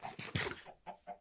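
Minecraft chickens cluck in a quick series of close, fairly quiet bursts with short gaps between them, and no talking.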